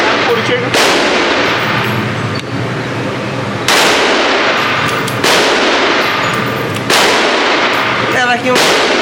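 Gunshots fired at a gun range at a slow pace of about one per second, each a loud close sharp crack followed by a long ringing decay, with roughly four shots over several seconds.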